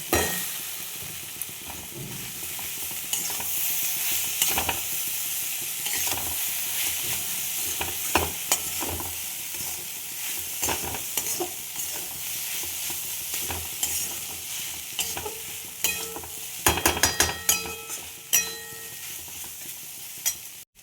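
Chow mein noodles stir-fry in a hot pan, a continuous sizzle broken by scraping and clattering strokes of the utensil, growing busier toward the end, with no talking.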